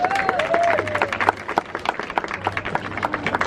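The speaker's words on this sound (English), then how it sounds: "Vous pouvez les applaudir encore une fois tous les deux, ils l'ont bien mérité" A crowd claps and applauds at Disneyland Paris, a steady patter of hands heard close up, with a voice and a brief sliding tone over it.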